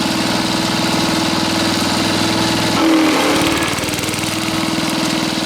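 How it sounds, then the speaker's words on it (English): A small engine driving a cutter blade while cutting tips for Christmas wreaths, running steadily and loudly; its pitch briefly shifts and bogs under load near the middle, then recovers. "You can see the throttle just compensate for the load on the cutter blade."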